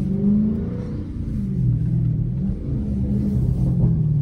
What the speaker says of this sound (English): Yeah, definitely aggressive downshifts.